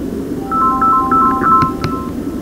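An incoming phone call ringtone plays through a FreedConn R3 motorcycle helmet Bluetooth headset. It is a quick run of bright electronic notes with a few sharp clicks, heard over a low steady hum.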